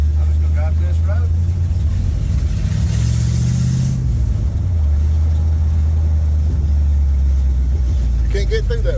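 A 1972 Dodge truck with a used engine, long abandoned behind a shed, drives a rough road, its engine droning loudly and steadily with a rise and dip in revs partway, and voices briefly heard.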